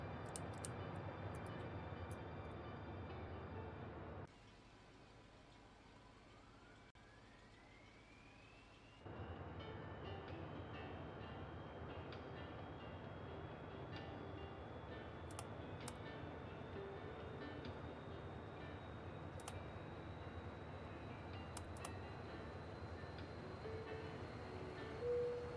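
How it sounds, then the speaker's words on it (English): Engine number 2 of a Dash 8 Q400 turboprop spools up in a flight simulator, a rising whine climbing steadily in pitch and settling into a sustained high tone over a constant cockpit hum, with no voices. "starting engine number 2"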